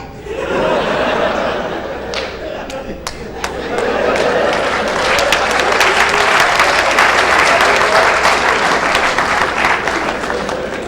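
An audience claps at a classic Punjabi comedy show, a broad wash of applause that swells and continues, with sharp individual claps and scattered laughter, loud and close.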